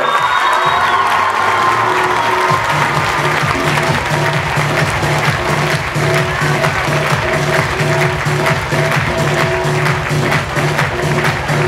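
A crowd at a dance club Christmas concert in Radomir claps steadily and loudly throughout, with cheers and whoops mixed into the dense, sustained applause.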